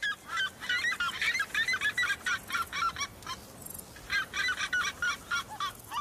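A calling flock of South American birds gives loud, rapid honking cries, repeated in bursts with a brief pause midway, close and dominant with no talk.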